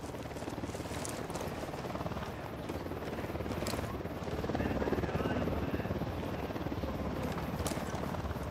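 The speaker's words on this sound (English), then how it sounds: "Chopper's approaching." A helicopter approaching in the video game Ghost Recon Wildlands, a dense, steady rotor chop growing slightly louder midway, filling the scene with no other distinct sounds.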